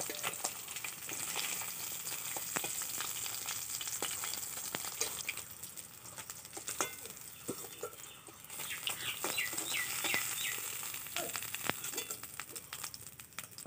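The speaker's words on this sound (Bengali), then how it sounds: "বাকি মাছগুলো ভেজে নেবো এভাবে।" Tilapia pieces fry in hot oil with a dense, continuous sizzle that stays loud throughout, with faint scattered pops and a brief softer pass near the middle, and no voices.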